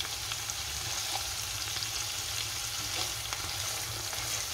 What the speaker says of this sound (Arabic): صافي هنا مني طابت لينا هانتوما الكبده